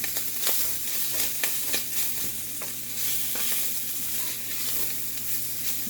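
Sausage fries into crumbles in a pan for sausage gravy, giving a continuous close hiss of sizzling fat with frequent light scrapes and taps of a stirring utensil throughout.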